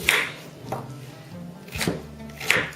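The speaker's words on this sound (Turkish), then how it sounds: "Soğanları sonra havuçları da doğruyoruz." A few separate knife chops through onions and carrots on a cutting board, close and crisp, spaced out with quiet pauses between them.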